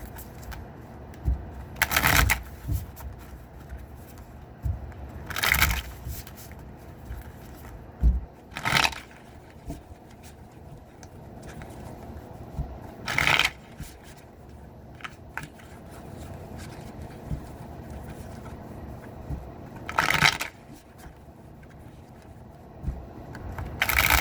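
Tarot cards being shuffled in bursts, several riffles or crushes of cards spaced a few seconds apart over a soft steady background, close and moderately loud, with no talking.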